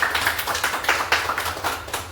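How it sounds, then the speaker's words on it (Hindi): Group of attendees at an IMC weekly business meeting giving a hearty round of applause, fast close claps rising and falling in loose rhythmic surges, loud and steady throughout. "एक जोरदार ताली होनी चाहिए।"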